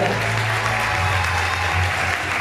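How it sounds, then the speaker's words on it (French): Audience applause for the newly crowned Miss Lens at the 2023 pageant in Lens, France: dense, steady clapping from a large crowd, loud and sustained throughout without a break. "on vous applaudit"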